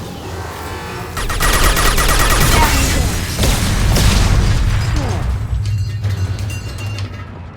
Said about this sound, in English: Well, the grenade launcher still hit